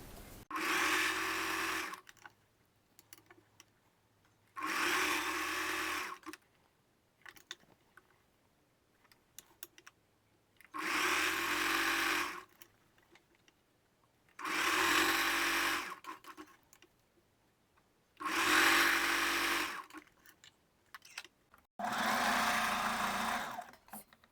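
A sewing machine runs a three-step zigzag stitch along scalloped edges, sewing slightly stretched elastic onto underwear, in six steady bursts of about two seconds each, separated by short quiet pauses.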